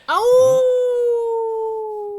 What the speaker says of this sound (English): While Roy is howling like a madman